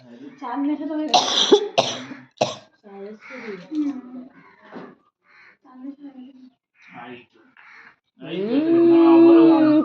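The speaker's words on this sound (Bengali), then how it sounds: "কাশি হচ্ছে।" A few sharp coughs close by, mixed in with talking and a voice, before a long drawn-out vocal sound near the end.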